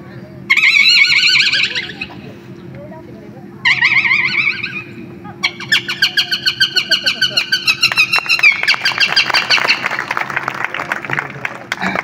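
A performer's voice imitates a sparrow and its chick: bursts of high chirping and squeaky peeping, first in two short phrases, then a long run of rapid repeated chirps over a steady low hum from a stage sound system.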